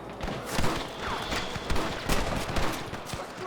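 Rapid gunfire in the Western video game Red Dead Redemption, a dense burst of overlapping shots cracking close and loud, with hoofbeat-like thuds mixed in and no voices.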